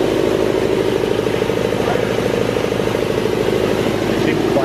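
Jenny air compressor running on rubber mounts, a steady mid-pitched motor hum with rapid rhythmic chugging, close and continuous, as people talk nearby.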